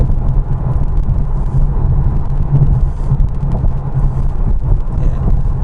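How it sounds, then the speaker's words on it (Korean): Polestar 2 electric car accelerating hard from around 100 km/h on a highway, a steady loud broadband road and wind rumble with a low hum, continuous with no pauses. "100km대에서 가속 페달을 쭉 천천히 깊게 밟으면 순간 가속력을 대충 느낄 수 있겠죠"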